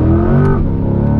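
A truck engine roars at full throttle with a loud, steady revving drone and strong low harmonics, close and continuous from start to finish.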